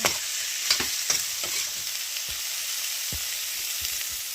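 Food frying in a pan hisses steadily while a utensil stirs it, with scattered scraping knocks over the constant sizzle, close and alone.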